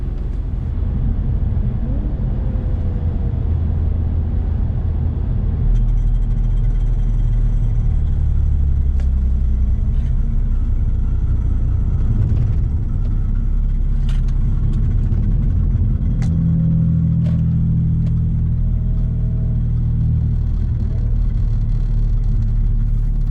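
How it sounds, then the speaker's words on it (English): An Audi S4's loose exhaust drones with a deep, steady boom on a racetrack, with intermittent high, metallic scraping and tinkling as it drags on the tarmac over the low rumble. "that booming exhaust note and the high-pitched tingling of metal scraping on tarmac"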